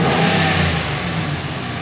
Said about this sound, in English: revving your Hemi at idle is one thing